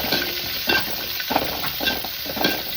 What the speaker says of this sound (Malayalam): ചതച്ച വെളുത്തുള്ളി നല്ലപോലെ മൂപ്പിക്കാം